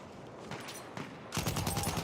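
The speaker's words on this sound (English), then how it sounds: "He's going to be taking some shots." Gunfire in a competitive console shooter match comes as a burst of rapid automatic shots, with a louder, denser volley toward the end.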